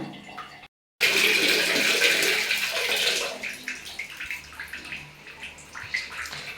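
Water splashes and pours steadily over a Labrador being bathed and shampooed, a loud rushing burst that tapers into softer, intermittent splashing and dripping.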